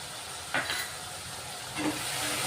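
Ground masala paste sautéing in oil for a village-style fish curry: a quiet, even sizzle with two brief bursts of stirring scrapes, no voices.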